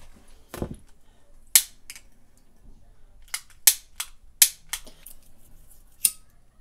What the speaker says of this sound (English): we're just going to light it with a lighter